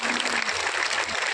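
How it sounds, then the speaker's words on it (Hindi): Crowd applause at an outdoor election rally addressed by a chief minister in Mungaoli, a dense, continuous roar of clapping filling the short stretch, close and loud. "तालियों की गड़गड़ाहट से धन्यवाद"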